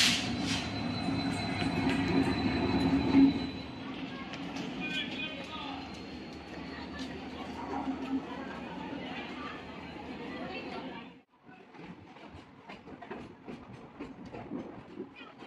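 A historic meter gauge train departs Mysore Junction station, its steady rumble and rolling wheel noise filling the scene with a busy platform murmur early on, quieting briefly before the clattering run continues.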